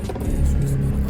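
A Dodge ScatPack in sport mode revs hard, a brief, loud, deep engine rumble with a rising low growl, heard from inside the car on a rainy drive.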